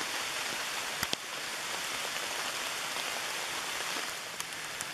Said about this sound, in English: Alright, it's pouring rain